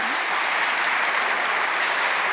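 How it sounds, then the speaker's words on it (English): Audience applause at a gala dinner award ceremony for two young pianists, a continuous even wash of clapping heard alone with no talk. "Big applause to both of them."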